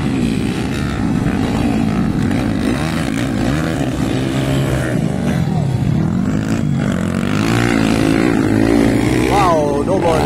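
Underbone 4-valve motorcycles racing in a motocross final at Maramag, engines droning and revving continuously at a distance under a commentator's excited talk throughout.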